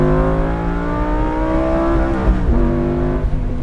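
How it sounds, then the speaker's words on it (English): Lamborghini Gallardo Spyder engine held at high revs, a loud steady harmonic drone that stutters and dips briefly as it bounces off the rev limiter, then settles back to a high pitch, with no talking. "We bounce in the rev limiter for a split second."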